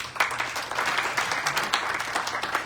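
Audience applause fills the room at a gun violence prevention colloquium, a steady dense wash of many hands clapping, fairly loud and continuous with slight swells.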